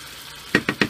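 Water poured into a hot cooking pot, three quick sharp hissing sizzle bursts in rapid succession, close and fairly loud after a brief quiet start.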